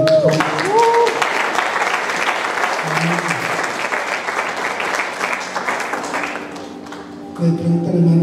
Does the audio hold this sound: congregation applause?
yes